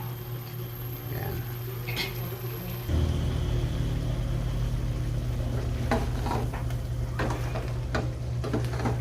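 Pork sautéing in oil in a pan for Filipino chicken-and-pork adobo, a steady close sizzle that swells louder partway through, with occasional clinks of a utensil against the pan.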